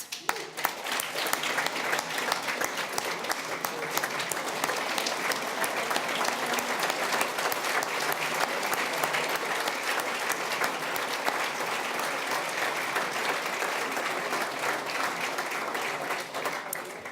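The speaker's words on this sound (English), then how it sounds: "please be upstanding and give them a round of applause" A standing audience at the 2014 Northern Ireland Enterprise Awards gives a sustained round of applause, dense and steady, lasting throughout at an even level before tapering slightly at the end.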